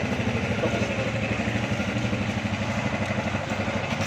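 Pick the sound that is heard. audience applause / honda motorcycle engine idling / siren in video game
honda motorcycle engine idling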